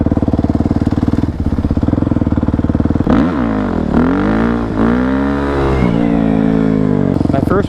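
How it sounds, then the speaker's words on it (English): A dirt bike engine revs hard during a ride, with a steady buzzing drone that breaks into repeated rising and falling throttle sweeps, loud and close throughout. "he let me take his dirt bike for a ride."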